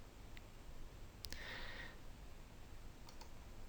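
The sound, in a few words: computer mouse clicks in genealogy software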